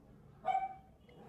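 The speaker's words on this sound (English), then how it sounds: "has this dog which barks all the time" A single short dog bark or yip, faint and somewhat distant, standing out briefly against quiet background.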